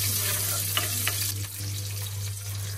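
Green chili and grated ginger fry and get stirred in hot oil, a steady close sizzle with a few spatula scrapes, no talking.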